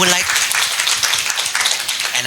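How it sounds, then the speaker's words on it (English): An audience at a seminar claps steadily in a dense, continuous wash of applause. "can we have a round of applause for all the guest speaker, please?"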